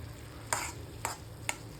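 Onion and green chili for fenugreek greens are stirred in an iron wok, four sharp regular scrapes of a spoon against metal over a soft sizzle, close up.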